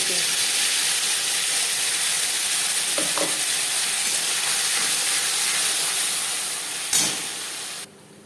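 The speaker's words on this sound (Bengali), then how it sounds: "কুড়ি পঁচিশ সেকেন্ড জিরে ভেজে নেওয়ার পর দিয়ে দেবো টমেটোর পেস্ট" Whole cumin seeds frying in refined oil with tomato paste stirred in give a loud, steady sizzle and hiss throughout, with a brief stirring clatter near the end before the sound drops away.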